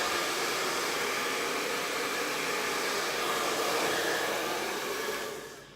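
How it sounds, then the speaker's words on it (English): A hair dryer on its cold setting blows a steady, loud airy whoosh close by for several seconds, then winds down at the end. "And I'm just using a cold dryer."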